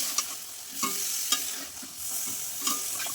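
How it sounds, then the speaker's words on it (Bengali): A spice paste is stir-fried with cauliflower and potato in a pan over medium heat, with a little water added for an egg curry. A soft continuous sizzle carries sharp utensil scrapes about every half second, with no one speaking. "এবারে একটু জল দিয়ে মশলাটার মধ্যে এই সবজিগুলোর সাথে একটু কষাতে হবে।"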